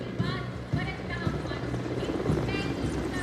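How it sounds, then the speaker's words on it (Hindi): Two Mi-17 helicopters pass overhead during an Independence Day flag-hoisting ceremony, their rotors beating in a steady rhythmic chop at moderate distance, with crowd murmur and faint voices mixed underneath. "इधर आकाश में दो Mi-17 हेलीकॉप्टर्स आकाश से पुष्प वर्षा करते हुए"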